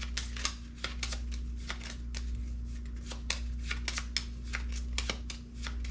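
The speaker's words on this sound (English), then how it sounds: "Shuffle them up." A deck of cards for the Stuka Ace board game is shuffled close by, with a quick, steady run of riffling flutters and soft snaps over a constant low electrical hum.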